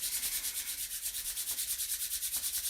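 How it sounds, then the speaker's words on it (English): Two hands rubbing briskly together in a rhythmic back-and-forth, a soft close swishing friction repeating steadily for a few seconds, with no talking. "Rub your hands together in front of your heart like this"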